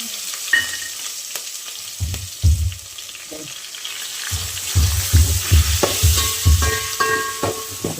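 Ginger, chili and garlic paste hits hot oil tempered with whole spices and asafoetida, giving a loud steady sizzle with the scrape and clink of stirring in the pan.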